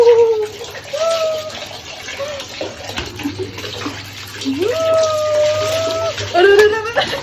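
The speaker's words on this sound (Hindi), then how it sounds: "इसके ऊपर पानी डालेंगे" Water splashing and running as it is poured over a pet during a bath, a steady wash of sound under someone talking, with an animal's whining cries rising through it.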